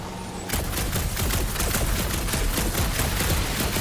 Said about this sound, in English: A couple of shots should bring it down.